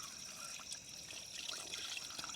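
Water pours steadily into a cooking pot holding garlic, black pepper and bay leaves at an outdoor camp, a soft continuous trickle and splash that stays faint and close.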